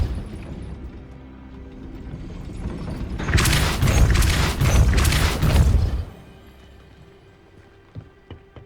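Depulso force spell cast in the video game Hogwarts Legacy, a loud crackling, rumbling magical burst lasting about three seconds with rapid pulsing bangs, rising out of quiet ambience and then falling away to a low hum.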